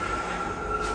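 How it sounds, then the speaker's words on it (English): A train runs close by near a railway station, a steady broadband rumble with a faint high squeal line held throughout, loud and unbroken for about a second with no voices. "Excuse the background noise, we are very near a railway station."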